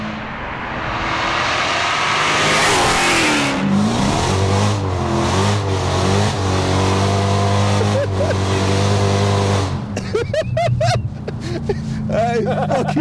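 An 800bhp Hellcat car engine revs hard and accelerates, a loud, sustained mid-to-low roar with rising and falling pitch sweeps, then sharper clipped bursts near the end, with voices talking over it.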